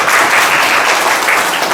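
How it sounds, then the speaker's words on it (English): Loud, dense applause from a crowd welcoming guests at a farmer day programme, continuous and close throughout the short burst. "let's welcome them with thunder of applause"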